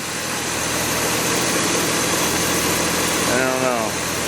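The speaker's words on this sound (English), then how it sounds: "The only thing I think I hear a little exhaust leak down there." A budget turbo 250 engine idles with a slight exhaust leak, giving a steady, even rumble that holds throughout at close range, with a brief voice near the end.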